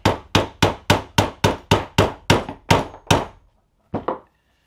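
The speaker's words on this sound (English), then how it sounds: "we're going to drive the magazine dovetail out right here, this tenon" A hammer drives the magazine dovetail tenon out of a Henry pistol-caliber rifle. About ten sharp, evenly spaced blows land close and loud, then a brief pause, then two lighter taps.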